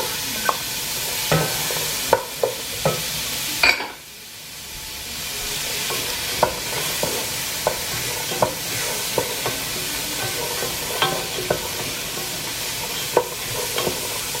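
Celery and carrots sautéing for a fall soup sizzle steadily in a pan. Frequent sharp clicks of a utensil against the pan punctuate the frying, and the sizzle briefly dips and swells again just before the midpoint.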